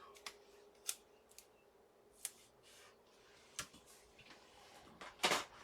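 Rotary cutter slicing a paper bag along a ruler, sharp crisp cuts and clicks scattered irregularly, close and quiet, ending in a louder scraping cut.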